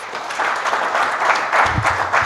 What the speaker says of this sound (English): Kindly clap for the panelists.